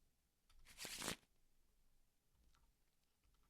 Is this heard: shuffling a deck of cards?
yes